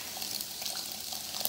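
Passion fruit pulp is strained through a sieve to separate the juice from the seeds, giving a soft, steady trickle of liquid with faint wet splashes, quiet and close, with no talk.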